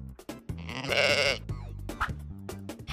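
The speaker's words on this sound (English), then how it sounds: "Sheep." A sheep on a farm bleats in a loud, wavering call lasting about a second, surrounded by a few quieter short bleats and bits of background noise.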